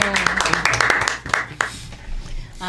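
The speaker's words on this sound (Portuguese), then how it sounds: "Seja muito bem-vinda, Milena Marilyn. Aplaudam! Aplaudam!" Scattered clapping from a small podcast audience welcoming a guest, a handful of sharp, close claps that thin out, with voices and cheering mixed in.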